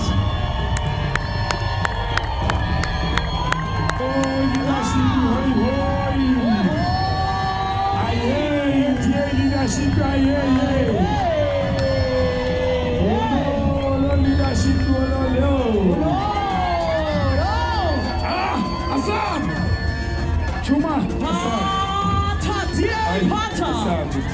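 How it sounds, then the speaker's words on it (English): Crowd at a political party manifesto launch rally cheering, whooping and shouting continuously, with loud amplified voices and babble layered throughout, a dense, sustained roar rather than distinct clapping. "Let's give them a round of applause."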